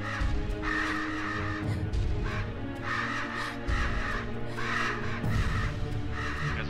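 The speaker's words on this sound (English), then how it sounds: "Get away from the ugly crows." Crows caw harshly in the video game Selma and the Wisp, a loud run of repeated calls close by that overlap and continue over the game's sound.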